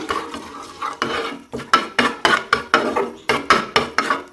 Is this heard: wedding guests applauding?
no